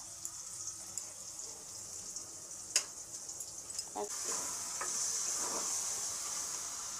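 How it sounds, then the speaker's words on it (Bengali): Chopped onion and spices sizzle in a pan for mutton kosha with yogurt, a steady close frying hiss with a few spoon knocks, the sizzle growing louder and denser in the second half. "কুচি পেঁয়াজটা দিয়ে দেবো, মশলাগুলো এখানে ভেজে নেবো।"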